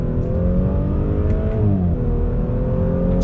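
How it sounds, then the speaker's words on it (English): A turbocharged engine in a 2021 Audi S4 sedan pulls hard onto a highway, its loud, smooth rising drone climbing steadily with a brief dip like a gear shift, heard from inside with no talking. "the way the turbo builds boost is really smooth and fairly linear for a turbocharged engine. Pulling out on the highway here, on throttle."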